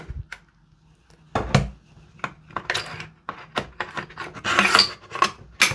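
The bolt of a Toxicant XM5 airsoft rifle is handled and slid back into place, giving a string of close metallic clicks, scrapes and rubbing knocks that come irregularly and grow busier toward the end, with no voices.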